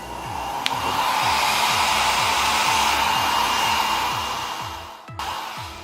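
A cheap budget hair dryer with a foldable handle runs with a steady, close whooshing blower roar and a low pulsing motor hum, easing slightly near the end before a brief click.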